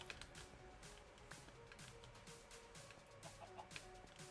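A Minecraft chicken clucks in soft, repeated bursts, faint under a steady backdrop of game ambience and noise.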